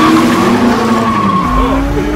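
A Ford race car accelerating hard in a Ford vs Ferrari film scene, tires skidding and squealing over a loud, rising engine roar, heard up close.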